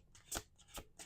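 Playing cards are shuffled in a quiet room, giving two quick crisp riffling bursts and the start of a third, soft and close with no talk.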